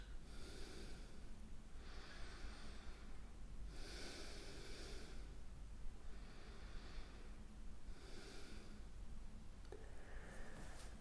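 Slow, deep breathing during a yoga warm-up, with long inhales and exhales repeating in a steady rhythm, soft and close over a faint background hiss.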